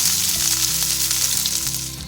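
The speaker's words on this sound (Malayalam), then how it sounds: "ഇതിപ്പോൾ നമ്മുടെ ചിക്കൻ എല്ലാം വറുത്തെടുത്തിട്ടുണ്ട്" Pieces of chicken for tandoori sizzle continuously and loudly while frying in a pan, with a dense crackling hiss and no talking.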